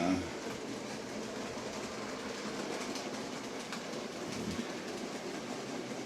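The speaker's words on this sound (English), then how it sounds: "I'm seriously hoping that this train will run okay without derailing." An OO gauge model train, a Bachmann 1F among the kits, runs along the track with a steady close rumble and faint clicking over rail joints, with no voices.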